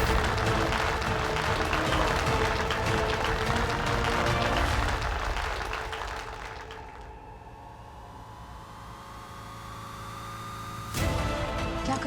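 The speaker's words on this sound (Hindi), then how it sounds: "जोरदार तालियों से प्रोत्साहन कीजिए गुड्डन अक्षत जिंदल का" A studio audience on a Zee TV family drama set claps loudly and densely, then the applause fades to a quieter background before a sharp burst of noise near the end.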